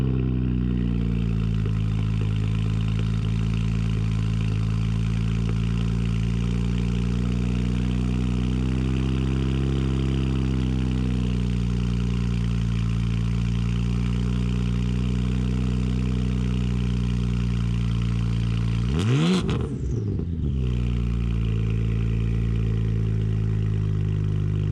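BMW 335 fitted with a cheap $60 aftermarket exhaust, rumbling at a steady loud idle for a long stretch, then one sharp rev that rises and falls quickly before settling back to idle.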